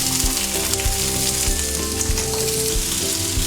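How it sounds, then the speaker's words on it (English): Aubergine sizzles in a pan with onion and green pepper, a loud, steady frying crackle throughout with occasional stirring scrapes. "Then we're frying our aubergine or nyanya as we call it back home."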